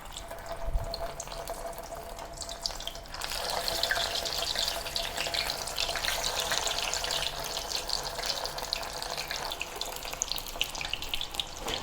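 Beancurd skin roll lowered into a frying pan of oil heated to about 170 °C, a soft hiss that swells after a few seconds into a steady crackling sizzle, faint and close.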